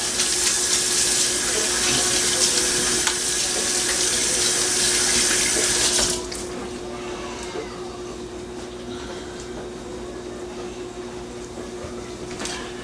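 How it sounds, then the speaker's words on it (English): Hands washed under a running kitchen tap after touching raw meat: a loud, steady stream of water that cuts off about halfway, leaving quieter room tone with faint handling sounds. "I'm going to wash my hands again because of the fact that I did touch raw meat"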